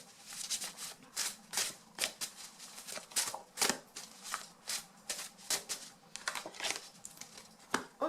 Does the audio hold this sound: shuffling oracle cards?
yes